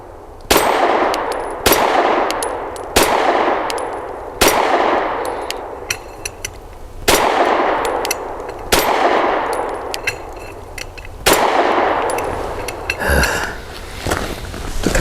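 Shots from a BUL Armory SAS II Ultralight 3.25 pistol ringing off a steel target outdoors, about eight sharp cracks spaced roughly a second apart, each followed by a metallic clang and decay.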